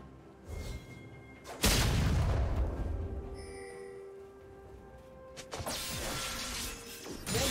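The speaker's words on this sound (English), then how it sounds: "Red team's turret has been destroyed." A turret collapses in League of Legends with a loud crashing smash and a deep booming impact, then rumbling debris and game effects trail off before more clattering hits near the end.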